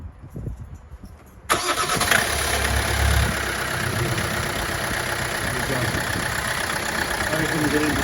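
A 2.0 D4D diesel engine in a 2008–2015 Toyota Avensis T27 cranks and fires after a short quiet stretch, then settles into a loud, steady close-up idle.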